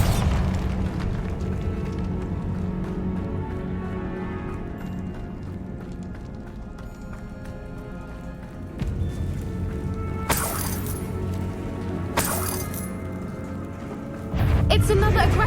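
A Bombarda blasting spell in Hogwarts Legacy bursts in several sharp booms and shattering cracks over a rumbling game score, with spoken dialogue mixed in.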